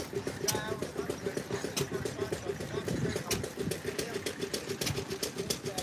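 A 1945 John Deere tractor engine runs at an outdoor Helldorado Days festival in Tombstone, its steady, rhythmic chugging pulses carrying throughout amid open-air crowd background.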